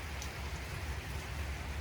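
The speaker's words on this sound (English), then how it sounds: "It's raining." Steady rain falls outside, a soft, even hiss and patter with no breaks and no voices, heard at a moderate distance.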